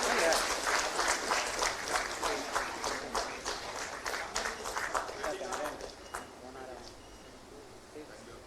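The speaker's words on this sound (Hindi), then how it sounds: "तालियां हर बार जोरदार होनी चाहिए।" Audience applause at an award ceremony for the launch of a sports policy, with clapping that is strong at first and then thins out and fades over several seconds, and voices murmur and talk underneath.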